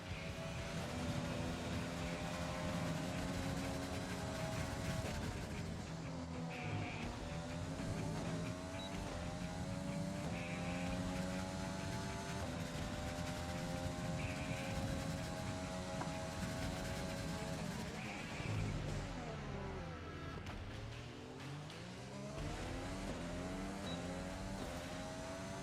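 An F1 car lapping in the F1 2020 racing game at the Austrian circuit, its engine droning loud and steady throughout with rising and falling revs through gear changes, and no voices.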